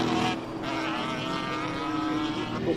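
A BMW M3 race car at a hillclimb sends out a loud, sustained engine note with steady harmonic drone, holding high revs throughout with a brief dip near the start.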